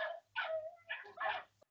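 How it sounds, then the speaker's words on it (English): Dogs bark repeatedly in the background during a phone-call test of a Bluetooth headset, giving several loud, close yips and barks in quick succession with brief gaps between them. "This is what it sounds like with dogs barking in the background."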